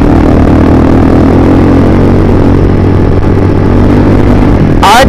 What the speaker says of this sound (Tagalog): Isa tong R15 na kulay blue. Naka open muffler na SC Project.